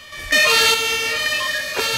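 Emergency vehicle sirens wail in the Emergency 4 video game during a fire-service response, a loud tonal siren starting abruptly and holding steady with a rising sweep near the end.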